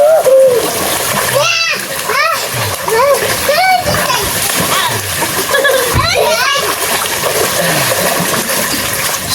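Two children splash and play in a small summer pool brought from Saudi, water slapping and splattering constantly up close while their excited voices and shrieks ring out over it.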